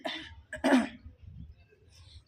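An elderly woman coughs indoors, a couple of harsh, throaty bursts close to the microphone, the loudest near the middle, followed by a quiet, low room murmur.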